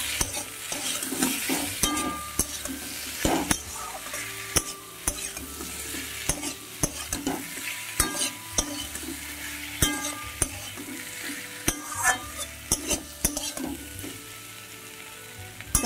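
Tomatoes and Kashmiri red chili powder fry in a pan over medium heat, sizzling steadily while a spatula stirs and scrapes with repeated clinks against the metal, close and clear with no talking.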